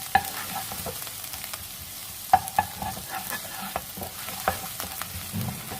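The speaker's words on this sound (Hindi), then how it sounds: "हल्का सा सौते कर लेंगे।" Garlic and ginger sauté in butter with a steady close sizzle, broken by repeated clicks and scrapes of stirring in the pan.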